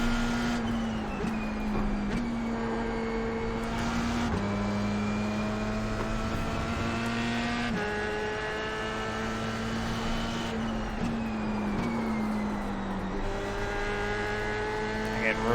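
F3 open-wheel race car circling Watkins Glen in the iRacing sim, its engine a steady high-pitched drone with pitch rising and falling through upshifts and braking, heard continuously while a commentator talks over it.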